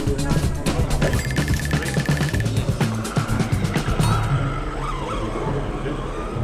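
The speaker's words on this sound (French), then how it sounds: "C'est du drift télécommandé." A remote-controlled drift car skids and whines with tire squeal over a steady motor drone, close and continuous, while voices talk in the background.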